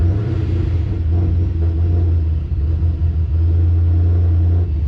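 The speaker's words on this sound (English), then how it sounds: "So I'm gonna let it idle, get up to temperature for a few minutes" A supercharged LS engine in a Pontiac GTO idles on E85, a steady, loud, low rumbling drone with a slightly lumpy pulse that holds even from start to finish, close by and without any voices.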